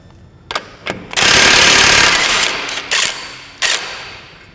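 A rear axle nut on a Subaru BRZ or Toyota FRS is driven off with a loud, rattling power tool: two short bursts, one long sustained hammering run, then two more brief bursts, with no talking.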